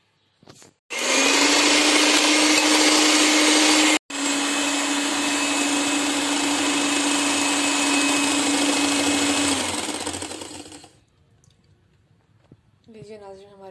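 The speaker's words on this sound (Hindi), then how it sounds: "अभी हम इसमें पीसी हुई चीनी डालेंगे और दोबारा इसको बीट करेंगे।" An electric beater whips cream with powdered sugar in a bowl. Its loud, steady motor whine starts abruptly, breaks off for an instant, then runs on evenly before winding down and stopping, leaving faint clinks.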